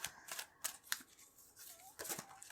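A deck of tarot cards being shuffled by hand, giving a series of brisk riffling, snapping bursts at an uneven rhythm, close and clear with no voice over them.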